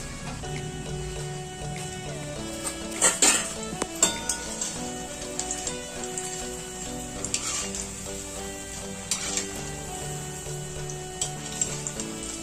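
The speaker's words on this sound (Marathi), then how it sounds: "आता मंद गॅसवरच आपल्याला ही शंकरपाळी तळून घ्यायची" Rolled shankarpali dough pieces fry in medium-hot oil over a low gas flame, a faint continuous sizzle under light clinks and scrapes of a metal utensil against the pan, with background music playing.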